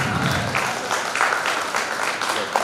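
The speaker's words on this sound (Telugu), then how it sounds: "గట్టిగా ఒకసారి చప్పట్లతో ఈ సత్కారాన్ని" Applause at a high school alumni reunion as a Telugu teacher is honoured, a dense, steady round of clapping from a crowd heard close throughout.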